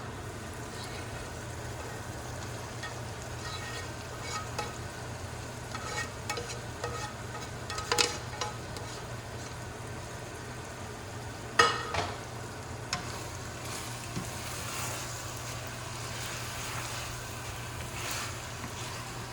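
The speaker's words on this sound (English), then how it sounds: "Mixing it well, put the lid on and cook for 5 minutes on low heat." Keema with onion and bitter gourd stirred in a pan over a low, steady hiss, with scattered soft scrapes and a couple of sharper knocks of the utensil, fairly faint and close.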